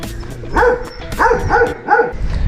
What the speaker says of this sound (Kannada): ಸೊ ಇಲ್ಲಿ ನೋಡಿ ಸಾಕಷ್ಟು ನಾಯಿಗಳು ಇಲ್ಲಿ ನೋಡೋಕೆ ಸಿಗತ್ತೆ